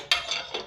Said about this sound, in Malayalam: ഇനി പാൻ അടുപ്പേ വെച്ച്